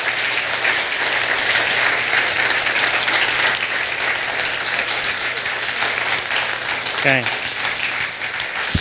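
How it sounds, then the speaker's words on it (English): A congregation in a church sanctuary gives sustained applause for leaders and students, with thick steady clapping from many people, a low hum beneath, and a brief spoken word near the end. "would you give our leaders and our students just a great round of applause?"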